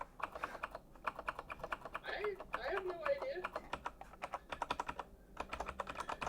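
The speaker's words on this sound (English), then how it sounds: "How was I typing that wrong?" Rapid computer keyboard typing in a steady stream of crisp, close key clicks, pausing briefly while someone speaks over it, then resuming.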